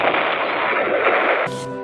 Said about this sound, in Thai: ระเบิดเลย ระเบิด ระเบิดเวลา